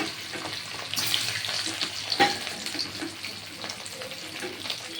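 Potato pieces with a little salt frying in hot oil in a pan for paneer kofta curry: a steady close sizzle with occasional clinks and scrapes of stirring, with no talking.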